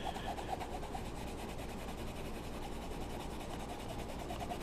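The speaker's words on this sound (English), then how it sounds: "now I'm just taking a piece of denim cloth, scrap of jeans," A scrap of denim cloth rubbed briskly back and forth over the edge-coated edge of a leather laplander knife sheath, a steady, soft rasping friction heard up close, continuous and alone.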